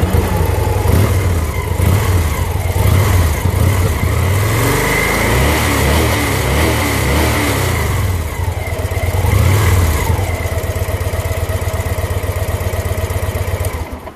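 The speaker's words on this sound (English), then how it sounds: "So here's what it sounds like with the stock exhaust." A 2014 Victory Vision Tour motorcycle on its stock exhaust idling with a deep, rumbling note, revved up a few times and then settling back, loud and close.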